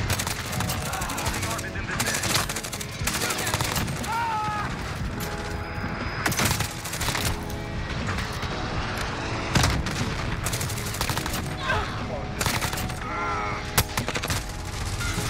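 Rapid bursts of automatic gunfire from Modern Warfare, using the Envenom Grau rifle, crackle almost continuously with sharp overlapping shots and a few louder booms, while a player's voice talks over the action.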